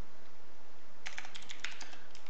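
A short burst of computer keyboard typing, about a dozen crisp key taps clustered in the second half over a faint steady hiss, with no talking.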